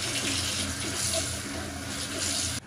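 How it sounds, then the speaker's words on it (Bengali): Running tap water splashes steadily over muddy leafy greens being washed in a basket in a kitchen sink, a close, continuous rushing with no talking. "শাকে অনেক মাটি, সে মাটিটাকে সরানোর জন্য ফার্স্টে আমি ঝুড়িতে এইভাবে ধুয়ে নিচ্ছি"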